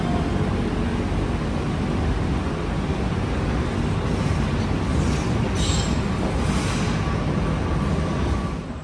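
Ranggajati passenger train from Cirebon bound for Jember departing a station platform, a steady loud rumble of wheels and rolling stock throughout with faint squeal, no talk.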